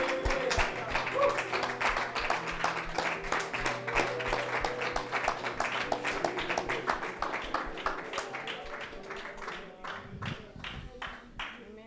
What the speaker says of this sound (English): if you would just give him a hand clap.